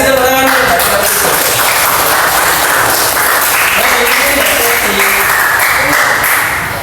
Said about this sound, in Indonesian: Kasih tepuk tangan untuk Chelsea.